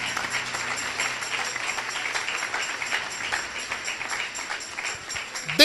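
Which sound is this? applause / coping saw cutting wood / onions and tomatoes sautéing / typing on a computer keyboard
applause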